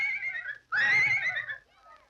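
The racehorse Dan Patch lets out a loud, close whinny, a short call followed by a longer quavering neigh and a faint trailing snort.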